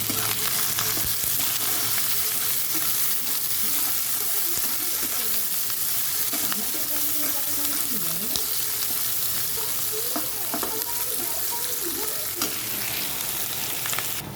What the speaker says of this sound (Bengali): এবার এই পেঁয়াজটা দিয়ে দেবো পেঁয়াজটা কুচিয়ে রেখেছি এটা বেশি করেই পেঁয়াজটা দিয়ে দিলাম